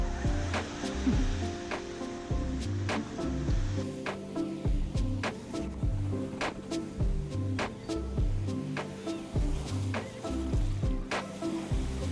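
Rough ocean surf at Waikiki Beach rolls and washes steadily, with repeated sharp splashes and knocks close by over a continuous churning roar.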